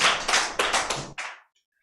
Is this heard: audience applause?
yes